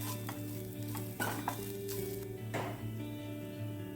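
Grated coconut sautéed in ghee for walnut laddu, giving a soft steady sizzle with intermittent stirring scrapes against the pan, fairly quiet and close, with no voices.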